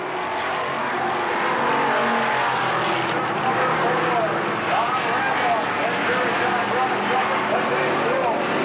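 Race cars lap Kil Kare Speedway at a 1994 season-closing event, engines droning loud and steady with rising and falling whines as cars pass, and a voice faintly underneath.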